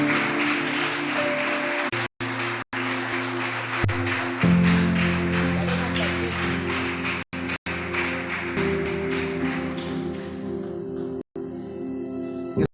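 A church congregation claps together during a Spanish-language service, a steady sustained round of applause over sustained organ or keyboard tones, with brief gaps and a gradual fade near the end.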